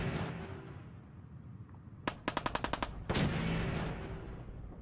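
Gunfire from the video game Fallout 4, fought against raiders: a rapid burst of about seven sharp shots, then a heavier blast, over a steady game ambience.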